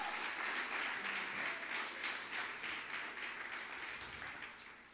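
Full, sustained applause from a church congregation, a dense wash of many hands clapping at moderate distance that gradually fades toward the end.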